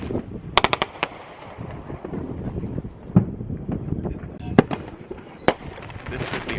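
Fourth of July fireworks bursting all around, with several sharp cracks and pops at varied distances over a constant rumble of wind noise and a whistling rocket near the end.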